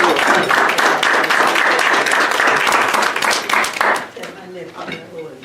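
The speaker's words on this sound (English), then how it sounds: "So another round of applause for this" A crowd applauds loudly with steady, dense clapping that thins out and tapers off near the end.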